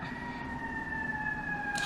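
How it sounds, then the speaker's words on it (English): An ambulance siren wails outside on a New York street, a steady sustained tone heard from indoors at moderate distance. "living in freaking New York, it's always these freaking ambulance and all the boys interrupting my video"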